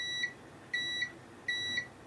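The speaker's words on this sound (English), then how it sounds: "we're looking for ground up here, which is a beep" A multimeter sounds three short, high beeps at an even pace while testing continuity to ground on an electronics board. The beeps are faint and clean against a quiet background.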